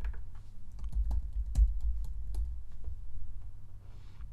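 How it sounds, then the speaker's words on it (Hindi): Keys tapped in a quick, uneven run on a computer keyboard while a Google Form is filled in, sharp clicks close up and fairly steady for several seconds with no talking. "आप टैब की भी यूज़ कर सकते हो नीचे जाने के लिए कीबोर्ड पे"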